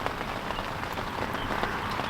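Steady rain falls outdoors at a fishing spot, a continuous dense patter of drops across the surroundings, loud and even throughout with no talk.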